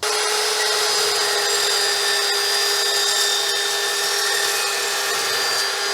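A power saw fitted with a new blade cuts through aluminum pipe in one continuous loud, close, high-pitched whine with a steady tone and no pauses or talking.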